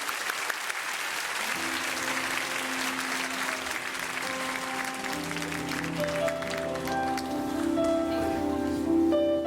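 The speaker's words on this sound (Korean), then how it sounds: "한번 박수로 이들을 맞이해 주시면 감사하겠습니다" A church congregation at a special dawn service applauds the middle and high school students and teachers with sustained clapping, while sustained musical tones rise underneath as worship music begins.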